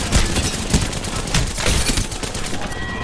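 Rapid automatic gunfire in the shooter game Apex Legends, dense overlapping bursts and shots cracking continuously, loud and close throughout.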